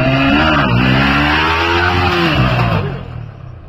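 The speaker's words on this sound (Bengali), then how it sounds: "দেখছো কিভাবে হুইলি উঠছে?" A motorcycle engine revs hard and steadily while the bike lifts into a wheelie. The tone stays loud and close, with the pitch rising and then dipping before it eases off near the end.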